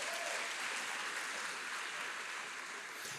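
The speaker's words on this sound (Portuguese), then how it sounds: "Aplaude o nome do Senhor bem forte" Church congregation applauding loudly and steadily, a dense wash of many hands clapping together for about three seconds with no voices over it.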